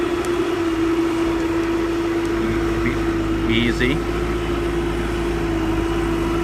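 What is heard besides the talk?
Bobcat skid-steer loader engine loading a truck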